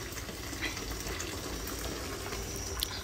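Water poured into a bucket at home, a continuous splashing gush that stays steady and close throughout, with no talking.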